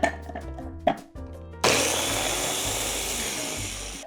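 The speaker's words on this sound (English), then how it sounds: "Chop it roughly and blend it in the food processor." After a few light clunks and knocks, a food processor switches on and blends roughly chopped Italian parsley with a quarter of a medium onion. It gives a loud, steady whirring roar that runs to the end.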